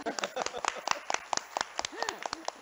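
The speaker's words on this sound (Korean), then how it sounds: "지금 청년들 박수" A small audience claps for student speakers at a regional forum on university-industry cooperation, with irregular sharp claps scattered over two and a half seconds and a voice speaking briefly beneath them.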